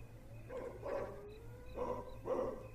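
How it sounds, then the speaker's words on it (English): A ghost dog in The Sims 4 barks in two quick pairs, moderately near, over a low steady game hum with no talking. "Yeah, it's a ghost dog."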